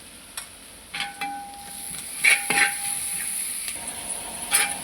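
Sliced onions with a teaspoon of salt frying in a pan, a steady soft sizzle broken by intermittent scraping stirs of a spoon against the pan.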